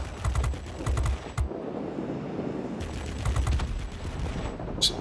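Guns of an F2H Banshee jet firing in the video game World of Warplanes, short repeated bursts of rapid fire over steady engine drone, with a voice talking.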